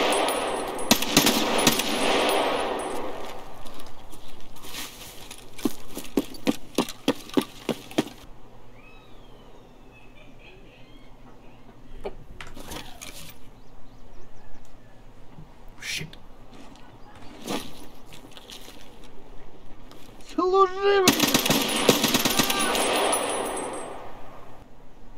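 Gunfire in the shooter game Escape from Tarkov, with loud bursts of rapid shots near the start, scattered single sharp cracks through the middle, and another heavy burst near the end, over low background ambience.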